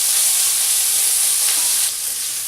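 Bacon browns in a pan for a beef bourguignon, giving a steady close, bright sizzle and fry that holds level throughout, then dips slightly softer near the end, with no talking.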